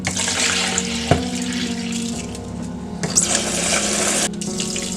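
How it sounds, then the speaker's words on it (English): Tap water pours steadily through washed rice held in a strainer for a Mexican rice recipe, a continuous loud splashing rush with a few sharper spatters and gurgles, close by and with no talking. "And now the water comes out clear, so we're gonna let it dry on the strainer."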